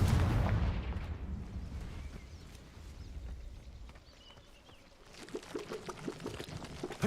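A Confringo blasting spell in a Harry Potter-style video game sets off a booming explosion that fades into a rumbling decay, followed by scattered debris crackle and small impacts.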